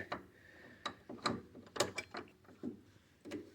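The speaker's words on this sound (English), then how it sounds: "I was never a big fan of these wrenches" Ratchet wrench working on the suspension of a 1991 Honda Civic while the coil spring is loosened, giving a close series of sharp, uneven clicking bursts with brief pauses between turns.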